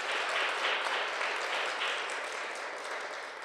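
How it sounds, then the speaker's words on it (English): An audience at a traditional Korean music performance claps for a performer, a dense, even wash of applause that tapers slightly over a few seconds. "Please give him a round of applause."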